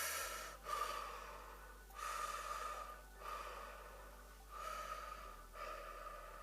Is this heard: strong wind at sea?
no